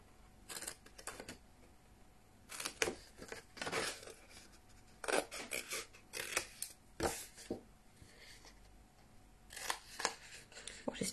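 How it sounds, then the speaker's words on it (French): Paper for a pop-up card is cut with scissors in short, crisp snips and rustles, close and fairly quiet, arriving in irregular clusters with gaps between them. "Je vais tout couper"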